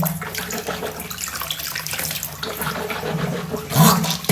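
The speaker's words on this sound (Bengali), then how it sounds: "এইভাবে ফেস ওয়াশ দিয়ে মুখ ধুইয়া একটু কুলি করে" Tap water runs and splashes close by as someone washes their face with face wash and rinses their mouth, with a louder gush of splashing near the end.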